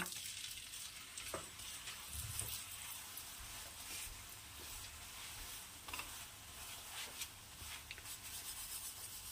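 Paratha frying in white oil in a pan over a gas flame, a steady soft sizzle running the whole time with a few faint scrapes and clicks, no voices.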